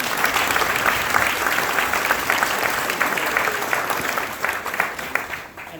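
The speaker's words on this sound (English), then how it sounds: "so let's please give her a round of applause." Sustained applause from a crowd at a naturalization ceremony in Southport, steady and dense clapping throughout, loud and close, tapering slightly toward the end.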